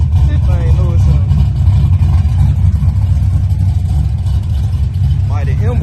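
A Chevrolet Monte Carlo's engine runs with a deep, loud rumble that stays steady throughout, while someone talks over it.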